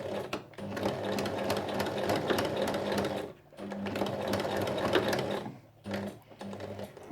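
A sewing machine stitching fabric for a lined Christmas drawstring pouch, running in steady rapid bursts of needle chatter with brief pauses between them, close and clear.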